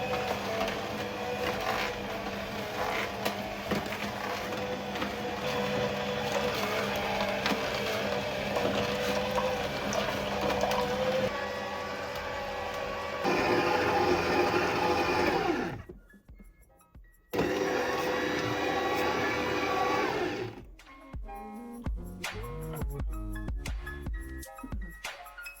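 A Hysapientia SD603 cold press juicer runs with a steady mechanical whir and grinding hum that lasts most of the stretch, then cuts out briefly, resumes, and ends in a series of clicks and knocks near the end.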